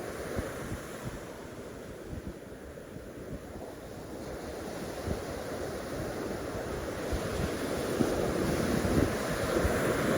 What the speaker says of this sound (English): Was that the waves?